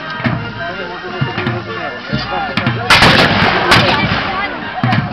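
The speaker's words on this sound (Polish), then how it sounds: "Działa ciągle grzmią." Cannon artillery booms repeatedly amid a noisy battle reenactment at Koźle Fortress, with heavy rumbling blasts and crowd voices mixed in throughout.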